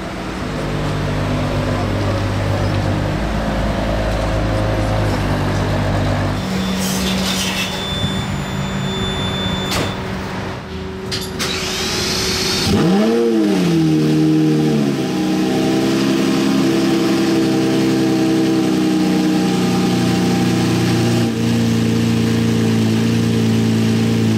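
A classic Ferrari GTO-style sports car idles and then drives off at a classic car show, its engine note rising sharply in a loud revving surge close by before settling into a steady rumble as it moves away.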